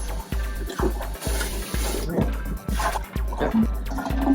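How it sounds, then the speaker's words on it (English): Water splashing and sloshing inside a fish tank filter being rinsed, close and wet with rhythmic pulses of pouring and swishing, while a person talks over it. "Splash some water around in here. Give it a good rinse."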